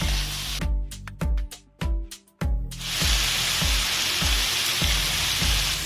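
Vegetables frying in a pan give a loud, steady, hissing sizzle. A series of sharp clicking taps sounds near the start.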